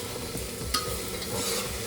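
Spice paste for mushroom masala hits a hot frying pan, giving a loud, dense hiss and crackle with stirring scrapes, one sharper clack partway through, and no voices.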